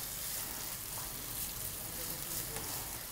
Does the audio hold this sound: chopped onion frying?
yes